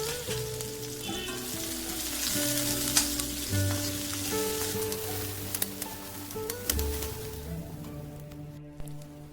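Cubed onion frying in oil with bay leaf and cinnamon for restaurant-style kadai paneer, a steady close sizzle with occasional stirring scrapes throughout.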